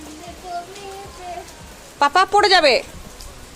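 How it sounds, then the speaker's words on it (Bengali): Steady rain falls outdoors among trees while children play, a soft continuous hiss beneath an adult's talking and a child's brief excited calls. "কি সুন্দর বৃষ্টি"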